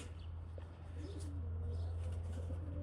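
Pigeons coo softly in a low repeated murmur over steady background noise, with faint chirps from young birds.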